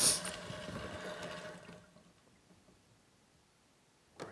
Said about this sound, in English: it's actually pulling most of the fluid out of the radiator